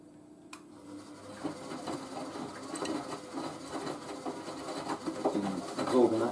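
A Miele W562 Prestige Plus washing machine takes in its top-up fill of water for the final rinse, a steady low wash of flowing water and faint mechanical hum with soft clicks, continuing near and moderately loud throughout.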